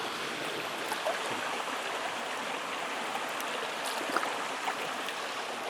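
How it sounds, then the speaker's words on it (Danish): Running water of a stream beside a lake in the Swedish wilderness flows as a steady, close, hissing babble with small splashy flickers, with no talking over it. "Her har vi lige noget rendende vand"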